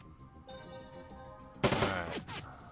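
Gunfire in the video game Shadowrun Dragonfall, a sudden loud burst of rapid shots that bursts out after a quiet stretch of game ambience and tapers off within about a second.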